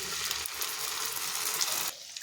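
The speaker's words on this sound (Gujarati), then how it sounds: "હવે આપણે મેશ કરેલા વટાણા અને બટાકાને ઉમેરી દઈશું" Mashed green peas and potatoes are dropped into hot tempering for matar ragda, giving a loud, close sizzle and frying hiss that carries on steadily, then cuts off sharply near the end.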